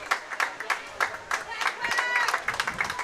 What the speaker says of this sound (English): And look, Academy Lanes is even applauding them.